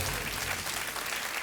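A studio audience on Kaun Banega Crorepati season 6 breaks into dense, sustained applause. The clapping is loud and continuous and has no talk over it.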